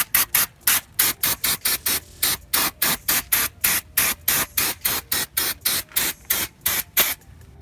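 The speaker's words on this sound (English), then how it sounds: "Take this brake cleaner and just spray the shit out of it, but don't waste it." Brake cleaner is sprayed onto a brake caliper in about two dozen quick, evenly spaced aerosol bursts. Each sharp hiss is loud and close, with short silent gaps between them.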